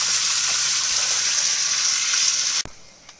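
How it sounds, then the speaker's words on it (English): A water pump flushing out a hydroponic reservoir in a hoop house, a steady, loud rushing gush of water that runs evenly before cutting off abruptly near the end with a sharp click. "It's just water in, water out. So I'm just gonna flush it out."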